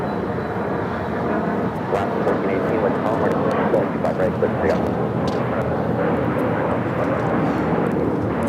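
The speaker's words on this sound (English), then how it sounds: "This takeoff is United Express 5456 taking off to Austin on the E175." A United Express Embraer E175 jet taking off at Los Angeles International Airport, a steady broad engine roar held throughout at moderate distance.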